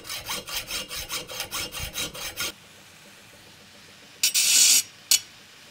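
A hand saw cuts straight through metal while building a knife, with about a dozen rhythmic back-and-forth strokes close by, then a pause and a couple of short, sharp scraping rasps.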